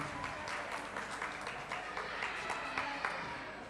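Audience clapping at a farewell gathering, a moderately loud, even spread of many hands with individual claps standing out here and there, continuous throughout without talk.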